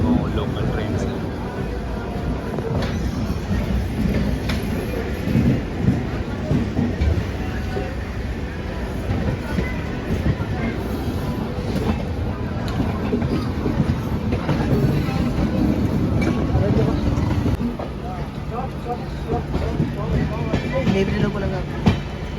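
The Howrah to SMVT Bangalore Duranto Express 12245 runs alongside a local train, producing a continuous loud rumble and rattle of rolling carriages with scattered clatter that stays steady the whole way.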